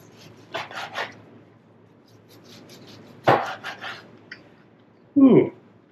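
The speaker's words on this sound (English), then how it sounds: "But let me get into chopping this here." A knife chops through smoked beef brisket on a board in a few scattered bursts of scraping and thudding cuts, the last one louder, with quiet room noise between.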